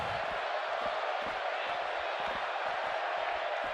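A wrestling arena crowd in the WWE 2K17 video game roars steadily, a dense continuous wash of cheering at moderate volume with rhythmic low thumps underneath, without clear talk.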